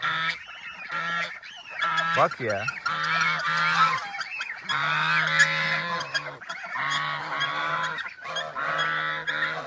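Several geese honk repeatedly and loudly nearby in a barn, harsh overlapping calls in a busy flurry, with a brief voice speaking among them.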